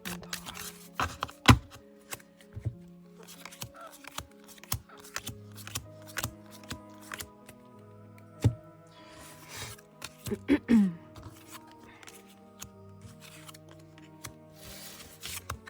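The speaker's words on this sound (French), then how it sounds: "On démarre tout de suite avec le mélange des cartes." Tarot cards being shuffled by hand, with a series of soft riffles, slaps and rubbing bursts spread irregularly across the clip, close and fairly quiet, with no talking.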